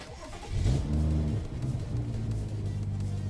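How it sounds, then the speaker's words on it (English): A BMW car engine cranks and catches, revving briefly before settling into a steady idle hum. "I'm gonna go ahead and turn the car on"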